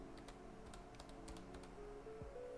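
Password being typed on a computer keyboard, a quiet run of irregular key clicks close by over faint background noise, with no talking.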